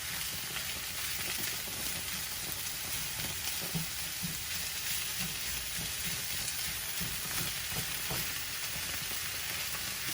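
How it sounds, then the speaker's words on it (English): Ginger and green onion sizzle steadily in hot frying oil, a constant close crackle with soft stirring clicks and no talking. "you start mixing the ginger and the green onion in the oil"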